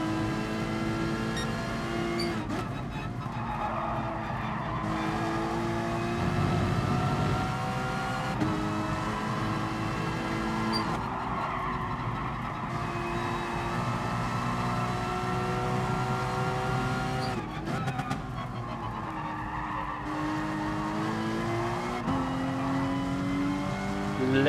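Race car engine in Gran Turismo Sport drones and revs under acceleration, with a few audible upshifts where the pitch drops and climbs again, steady and fairly loud with no talk over it.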